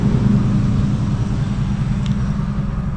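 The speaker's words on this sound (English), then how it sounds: "I'll let the truck pass." A truck rolling past on a road near the site of a 1960 coal mine disaster in Holden, West Virginia, a steady loud low rumble that holds through the whole moment with no talk over it.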